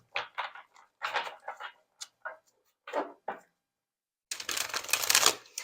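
Oracle cards being shuffled, a quick riffling rustle of card stock that comes in a dense burst near the end after a run of short, separate clicks and taps, close by and fairly loud.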